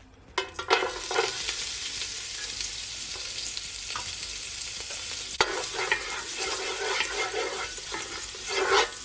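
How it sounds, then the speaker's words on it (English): Garlic drops into a pan of hot oil left from browning beef short ribs and sizzles in a steady, bright hiss, with brief stirring scrapes and a few louder crackling bursts near the start and end. "I'm gonna add my remaining garlic."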